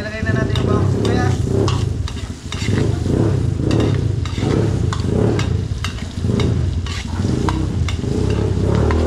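Chopped garlic and onion sizzle steadily and loudly in hot oil as the base for a spaghetti sauce. Stirring scrapes repeat throughout.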